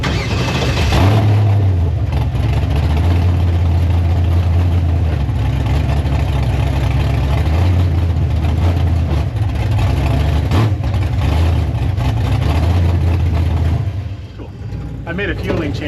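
Small-tire drag race car engine idling at a track, a steady loud rumble with slightly rising and falling revs that drops away near the end.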